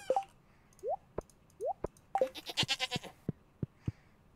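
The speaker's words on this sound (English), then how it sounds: "I love that goat noise." Stardew Valley's goat gives short synthesized bleats, several rising calls spaced apart, mixed with game plops and clicky interface effects.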